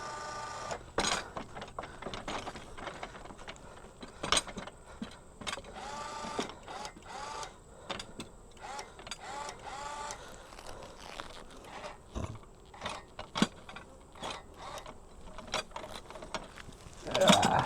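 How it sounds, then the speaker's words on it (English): A beehive lifter's ratchet cranked under tension, giving irregular mechanical clicks and clunks with creaking strain, close by, ending in a louder crack as the boxes give. "I get the hive lifter lined up, I put it under a little bit of tension and then crack it open"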